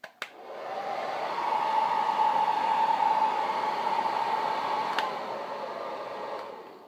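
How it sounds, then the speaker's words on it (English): A standard 1500 watt hair dryer blows steadily at close range onto an iPad Air screen to soften it for opening, a continuous whooshing roar that holds level for several seconds with a brief click at the start. "I like to use just a standard 1500 watt hair dryer."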